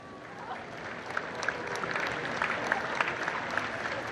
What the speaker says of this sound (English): you can hear the local crowd appreciate their champions.